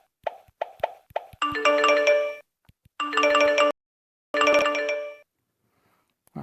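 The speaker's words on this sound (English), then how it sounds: "And this is more like a social media chat sounds." Android keyboard social media chat key sound effect: three quick soft taps followed by three bright, harmonically rich chime bursts, each lasting under a second, close and clean with no voices.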